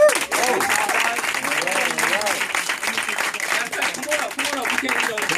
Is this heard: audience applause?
yes